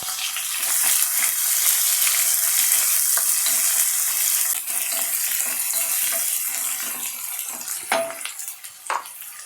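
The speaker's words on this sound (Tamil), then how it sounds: "வெங்காயம் நல்லா செவக்கட்டும்." Sliced onions with curry leaves frying in a pan for Tamil fish gravy, a steady close sizzle with stirring scrapes, quieting toward the end with a couple of sharp utensil knocks.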